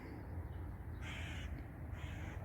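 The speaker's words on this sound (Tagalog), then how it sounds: "Nag-aawit ang ibon." A crow caws two harsh calls in quick succession against a faint outdoor hush, fairly clear but not very close.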